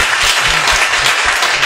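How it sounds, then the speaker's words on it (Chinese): An audience applauds steadily at a civic salon event on protecting Taiwan's rivers and oceans, a dense wash of many hands clapping close and continuous with no talk over it. "我们掌声谢谢他了哈"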